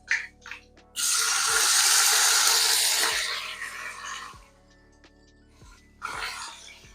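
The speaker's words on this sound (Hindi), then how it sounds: "गोश्त को कलर चेंज होने तक फ्राई करेंगे।" Meat frying with garlic in hot cooking oil in a kadhai, a loud burst of sizzling hiss that fades after a few seconds, then flares again briefly near the end.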